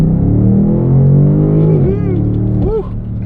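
A BMW M850i engine drones steadily at high revs in sport mode, held in a lower gear, then climbs and dips through quick rev blips as it shifts, heard from inside the cabin.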